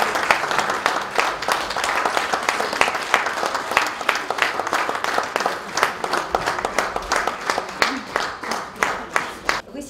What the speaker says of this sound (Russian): Пожалуйста, громкие аплодисменты.